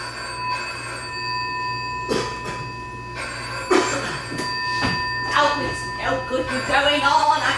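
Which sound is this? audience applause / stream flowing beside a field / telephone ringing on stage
telephone ringing on stage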